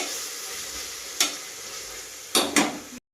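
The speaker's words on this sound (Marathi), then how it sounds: "आता 3 चम्मच अद्रक लसूणचा पेस्ट मी याच्यात ऍड करणार आहे आणि 1 सेकंड साठी असं परतवणार आहे" Ginger-garlic paste sautés in tomato masala in a pan for masoor pulao, making a soft, steady sizzle broken by three sharp spoon scrapes near the end, close and without speech.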